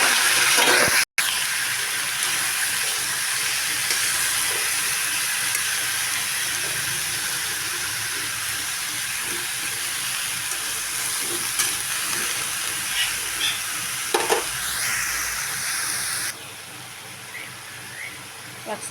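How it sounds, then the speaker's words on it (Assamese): Vegetables hit hot oil in a pan and sizzle steadily with loud, continuous hissing and spattering, close by, and the sound eases a little toward the end. "চব্জিবিলাক দিওঁ।"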